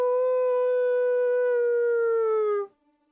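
A single long, steady howl held for over two seconds and then cut off abruptly, loud and close with rich harmonics, followed by near silence.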